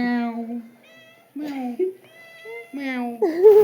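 A human voice imitates a cat meowing, giving about four drawn-out, pitch-bending meows in a row, close and clear with short pauses between them.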